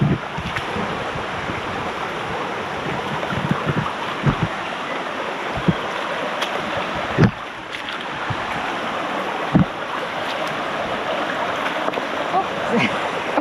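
Ross Creek rushes steadily beside a bush walking track near a reservoir, its broad hiss close and constant, broken by occasional sharp knocks and footstep thuds as someone crosses, with some wind buffeting the microphone.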